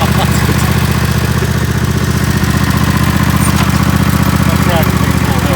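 An old tractor engine runs with a rough, steady chugging idle, loud and close, with choke and throttle being worked, while someone talks over it.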